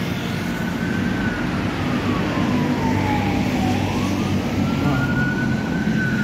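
A wailing siren rises and falls steadily over dense traffic noise on a street near an MRT station in Jakarta, continuous and fairly loud, with a brief spoken word at the start.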